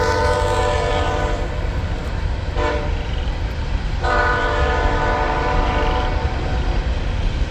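A loud, constant train rumble passing near a junkyard fills the clip, with a horn blaring from the start and two brief flurries of clatter partway through.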